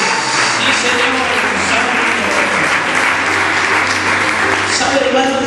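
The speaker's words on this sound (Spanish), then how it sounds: "Denle un aplauso a Jehová." Steady, dense applause from a large church congregation fills the whole stretch, loud and continuous without a break.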